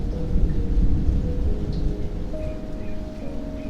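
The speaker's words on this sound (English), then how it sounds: "Sounds like rain." Rain in the video game DDLC Everlasting Remastered falls as a dense, continuous low rumble with a steady patter, fairly loud and unbroken, with a faint tonal hum partway through.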